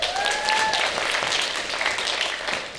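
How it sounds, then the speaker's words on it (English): Pageant finalists receive steady, loud audience applause, a dense wash of clapping that holds evenly throughout with a faint whistle early on. "Let's give them a round of applause."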